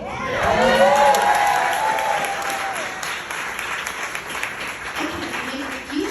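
An audience at a Chicago event for Marianne Williamson claps and cheers, a loud burst of applause with shouts and whoops that gradually settles into steady clapping, while a voice calls out over the start.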